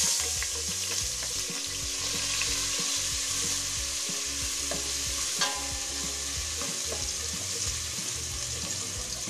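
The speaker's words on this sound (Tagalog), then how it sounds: "Magigisa na po tayo ng bawang." Garlic sautéing in a pan for sinigang, a continuous close frying sizzle with low clattering stirring throughout, no voices.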